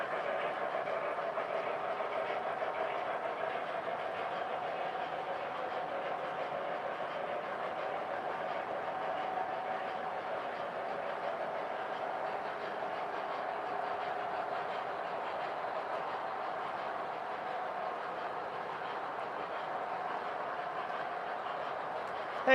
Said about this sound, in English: So I enjoy watching trains go by as if they're passing through town.